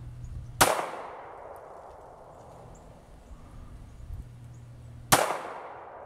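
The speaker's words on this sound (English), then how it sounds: "No, just keep shooting." A Beretta Pico or .22 Crickett pistol fires two shots, about four and a half seconds apart. Each report is sharp and loud with a short decaying tail, and there is no talk.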